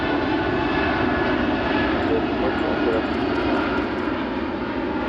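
An Airbus A380 climbing with its jet engines at full power during flight testing, a loud continuous roar that stays steady and close throughout, with no voices.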